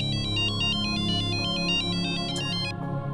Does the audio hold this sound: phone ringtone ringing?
yes